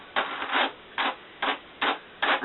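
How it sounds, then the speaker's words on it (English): Retted nettle fibres are carded with a comb in five even, rhythmic strokes, each a close, scratchy rasping sweep separated by brief pauses. "Basically, I'm combing the hair of the nettles here."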